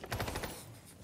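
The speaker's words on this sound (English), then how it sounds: "that gun just sounds disgusting" Rapid bursts of gunfire from a gun in a video game, a quick stutter of sharp shots in the first half second, trailing into a rough, noisy tail, fairly faint overall.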